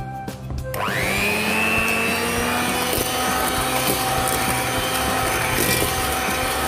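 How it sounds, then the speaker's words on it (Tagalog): An electric mixer runs steadily through ensaymada dough, a loud continuous motor whir that spins up after a brief start and holds level, close by, with the beaters churning throughout. "Tapos po, gamitan lang po natin siya ng electric mixer."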